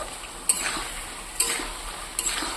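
Spice paste frying in released oil, stirred with three distinct scraping strokes over a continuous soft sizzle, close up and without talk.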